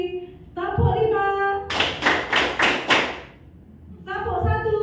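Five quick, crisp claps ring out in unison from a group of school staff in a counted clap pattern, sitting between stretches of a voice speaking.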